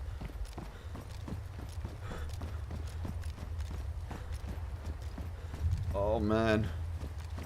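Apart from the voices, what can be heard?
horse-drawn carriage in DayZ video game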